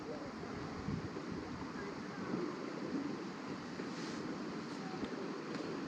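River water flows steadily in a rural creek, a faint, constant rushing wash heard from a short distance with a light breeze over it.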